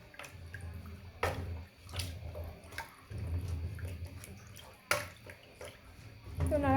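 Cow's milk is stirred into chicken roast in a pot, giving close wet sloshing and clattering stir strokes with brief sharp knocks, under light room noise.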